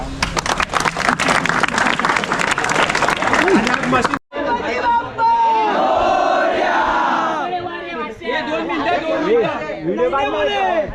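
A crowd at a Pro Govinda human-pyramid event bursts into dense, rapid clapping for about four seconds. Loud shouting, chanting and cheering from many voices follows.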